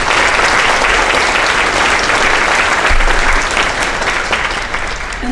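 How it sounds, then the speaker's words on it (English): A community forum audience at a 2018 mayoral candidates event breaks into loud, sustained applause, dense clapping from a full room holding steady throughout. "So, round of applause for Sally."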